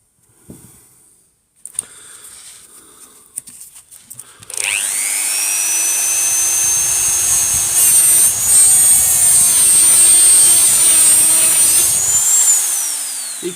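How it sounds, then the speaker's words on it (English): A power saw cuts into a Milwaukee M18 battery pack after a few scattered knocks and handling sounds, then runs loud and continuous for about eight seconds with a high whine and grinding rasp before spinning down. "Bit more sawing to do here."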